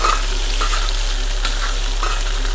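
Tomato, onion, ginger and chili frying for a Bangude pulimunchi mackerel fish curry, a steady close sizzle broken by a few brief stirring scrapes.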